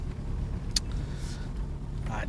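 A car rolls slowly along a blueberry farm track toward a broken, high-pressure water line, its low engine rumble steady and close, with a brief knock and faint background sounds.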